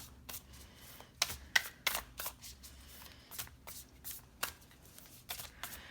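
A tarot deck is shuffled by hand in a quiet room: crisp papery riffles and snaps come in irregular bursts, close and soft, with no one speaking.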